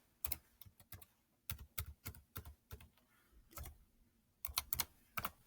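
Fingers tap out a library card number on a computer keyboard, with soft, close key clicks in uneven clusters and short pauses between them.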